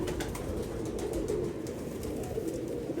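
Pigeon cooing faintly and softly in soft repeated low coos under a quiet, slightly noisy room background.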